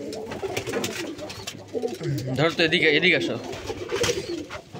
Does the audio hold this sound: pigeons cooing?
yes